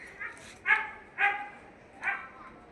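Dogs barking outdoors in short yelping barks, three or four distinct calls spaced apart at moderate distance, with quieter whimpering between.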